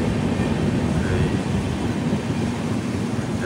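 A train's continuous rumble and rattle are heard from inside a carriage, loud, steady and without a break, under constant wind noise.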